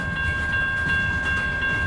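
A long-haul CN mixed freight train rolls westbound on the tracks, giving a steady, loud, close rumble with a sustained tonal whine over it and no talking.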